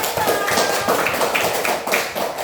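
Schoolchildren in a classroom applaud a classmate after a reading, a quick rhythmic patter of many hands clapping together, loud and close, with regular pulses through the whole stretch.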